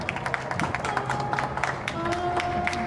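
At a Far West show at Cinecittà World, a crowd applauds with scattered, uneven claps over a background of music and ambient noise, moderately loud and continuous.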